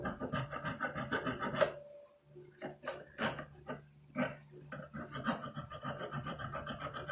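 Close, scratchy rasping strokes of a file on the wood of a hand-cut dovetail joint, a run of back-and-forth strokes, a brief pause, then more filing.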